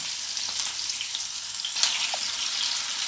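Chicken pakoda frying in hot oil, a steady close bright sizzle with small bubbling pops throughout, no voices over it.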